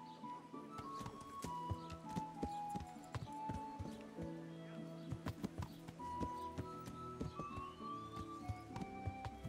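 Horse hooves in Kingdom Come while riding: steady, fairly quiet clip-clop of hoofbeats in an irregular walking rhythm, alongside a faint tonal background.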